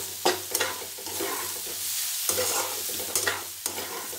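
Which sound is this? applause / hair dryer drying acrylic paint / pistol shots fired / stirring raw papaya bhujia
stirring raw papaya bhujia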